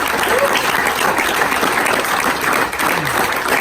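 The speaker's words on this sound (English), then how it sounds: "Don't applaud us." A theater crowd at a film event applauds loudly, a thick continuous roar of clapping with faint cheers and whoops mixed in, holding steady for the whole stretch.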